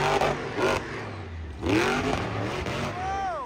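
A monster truck engine at a Monster Jam event in San Diego straining hard, with rising revs, sharp pops and backfires in uneven bursts, loud and close with some crowd or commentary noise mixed in.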